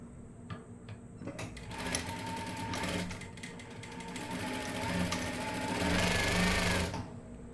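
A sewing machine stitches a bias cross piece onto a garment neckline, running in a steady, rapid mechanical chatter that builds slightly and then stops.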